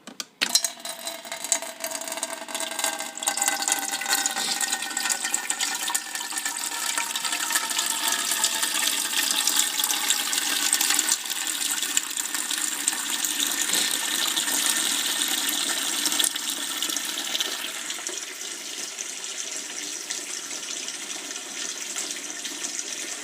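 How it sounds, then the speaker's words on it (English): Water gushes steadily into a Ball Freshtech electric canner being filled for canning peaches, a continuous rushing pour with no talk, loud and close throughout. "And this thing needs to be filled up with some water, which I will do."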